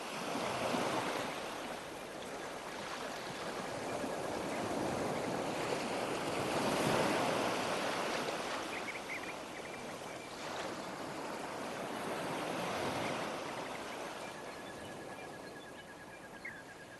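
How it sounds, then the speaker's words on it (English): Sea waves beat against the rugged, indented shores of Kangaroo Island in a continuous, broad surf roar that swells and recedes over many seconds, with no voices. "the sea beats against the cut-out shores of Kangaroo Island"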